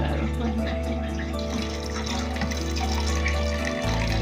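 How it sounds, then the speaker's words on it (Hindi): Water is poured into a clay pot for cooking daal, making a steady, continuous splashing stream close up that runs for several seconds before cutting off near the end, with a low hum underneath. "तो अब हम इसके अंदर जो है पानी शामिल कर लेते हैं"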